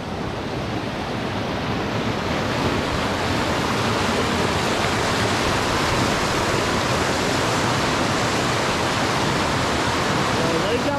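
A fast-flowing creek rushes around a small delta beneath a bridge on a solo backcountry trip over Fording River Pass, a loud, unbroken roar of churning water, close and steady throughout.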